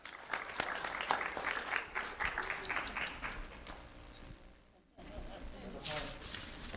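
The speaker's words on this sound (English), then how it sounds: "Let's have a round of applause for Avianna Grigsby." Crowd applause at an awards ceremony for elementary school students, steady clapping from many hands that fades briefly and then picks up again.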